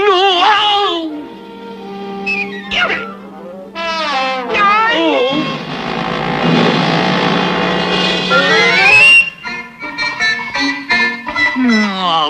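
Cartoon cat from an animated feature meowing and yowling in a run of loud, pitched, wavering cries, with music and other animated voices around it.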